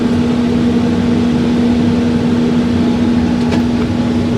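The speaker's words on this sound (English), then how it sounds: "I'm going to set my blower on high" A wood stove blower fan running on high gives a steady, loud, close hum with a constant pitched whine and airy rushing, unchanging throughout.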